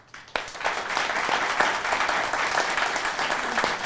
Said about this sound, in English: Join me in a round of applause for Professor.